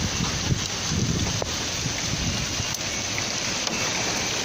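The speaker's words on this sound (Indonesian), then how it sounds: "Banyak sekali hujan esnya." Hail falls steadily through a hotel-room window view of a street in Makkah, Saudi Arabia, a dense, continuous hiss and patter with a few sharper ticks from scattered stones, loud and unbroken.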